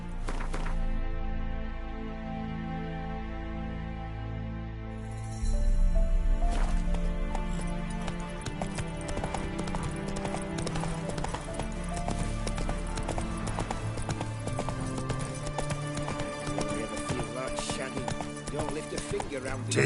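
Roach, the horse in the Witcher 3 video game, gallops with rapid, rhythmic hoof clip-clops over steady game music and ambience, starting after a few seconds and continuing to the end.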